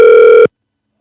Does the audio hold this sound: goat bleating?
no